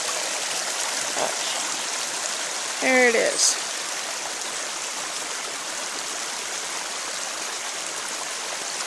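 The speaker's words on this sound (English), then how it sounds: "I heard the sound of water trickling" Steady broadband rush of rainwater running down a property in a stream throughout, with a brief spoken remark near the middle.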